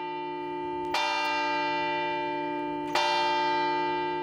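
A church bell rings from a comb belfry, a wall pierced with four bays for bells, giving two loud clear strikes about two seconds apart, each leaving a long resonant hum that lingers between them.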